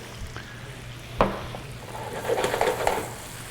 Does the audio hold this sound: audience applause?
no